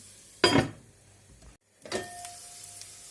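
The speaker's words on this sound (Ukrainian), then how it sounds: "Прикриваю кришечкою і даю час обсмажитися моркві." Carrots fry in a pan, with two bursts of sizzling as the lid is lifted and set back, the first louder, then a quieter frying hiss in between.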